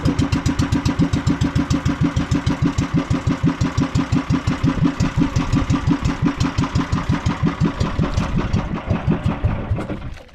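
Broken-down boat engine chugging in rapid, even pulses, loud and close, holding a steady rhythm before briefly faltering and sputtering out near the end, no talking.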